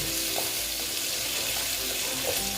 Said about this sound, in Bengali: আমি আলুটা খুব ভালো মতো ভেজে নেব